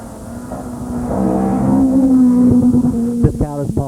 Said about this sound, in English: Again, this sounds like the General Motors Orion.